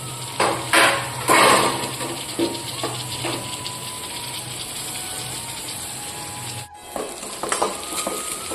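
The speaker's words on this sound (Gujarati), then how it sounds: "એક નંગ ઝીણું ટામેટું સમારી લીધું છે એક તીખું લીલું મરચું અને થોડા મીઠા લીમડાના પાન તેને પણ સાથે સાથે નાખી ધીમા તાપે ચડવા દઈશું" Chopped tomato, green chili and curry leaves cook on a low flame in a pan, giving a steady soft sizzle. Near the start a few louder stirring scrapes and pan knocks cut in, and the sizzle briefly drops out toward the end.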